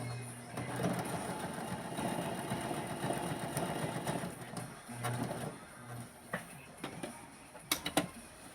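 A sewing machine stitching an appliqué at full speed gives a continuous motor whir and rapid needle rattle for several seconds, then slows into shorter bursts and a few clicks near the end.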